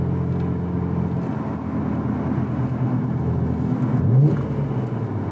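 Interior engine drone from a Nissan Skyline GTR R33 V-Spec on the move, a steady low rumble with a brief rise and a pitch swing as the gears change, no voices present.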